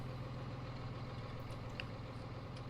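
A steady, low tractor engine hum idles quietly and evenly throughout, with no other sounds standing out.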